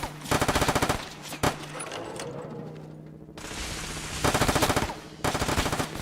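Video game gunfire in Fallout 4: rapid bursts of automatic fire come in loud rhythmic volleys with short pauses between, a single heavy shot mid-way and a low hum underneath.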